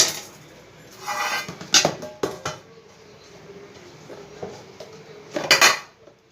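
Plates and dishes handled in a home kitchen while making a milk cake, with scattered clinks and clatters of crockery and cutlery, a few sharper knocks standing out between quieter shuffling, close by and with no talk.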